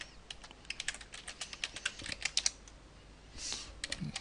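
Quick bursts of keystrokes on a computer keyboard clatter in an uneven rhythm, fairly close, followed by a pause and a soft rustle.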